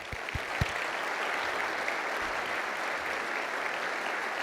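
Steady audience applause at a civic State of the City event, welcoming elected officials such as county commissioners; dense, continuous clapping filling the hall at moderate level without a break.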